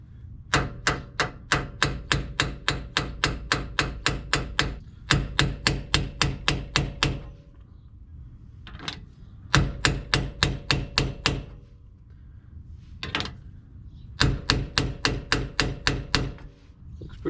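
Quick bursts of rapid metallic tapping drive a bearing into place on a 2002 GMC Sierra 1500 pickup. The taps are close and loud and come in steady runs with short pauses between them.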